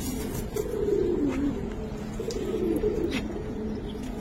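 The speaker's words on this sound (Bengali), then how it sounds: "একটা সিলভার নর দেখাই, আসলে প্রচুর ডাকে কবুতরটা।" A silver male Giribaz pigeon coos in deep, rolling bursts close by, repeating steadily against a light background hiss.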